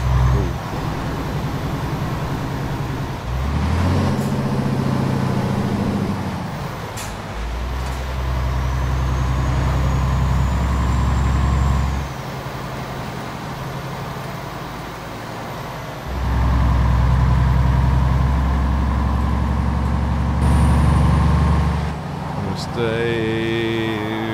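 A heavy truck in Euro Truck Simulator 2 accelerates with a deep, loud engine drone that rises and falls through gear changes, with brief air-brake hisses and someone talking over it.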